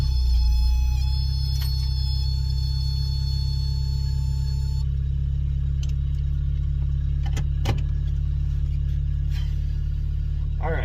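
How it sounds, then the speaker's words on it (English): A 1987 Toyota 4Runner with a 22RE engine and poor exhaust runs at a steady, loud low idle, with a few light clicks and knocks over the drone. "the exhaust sounds like trash"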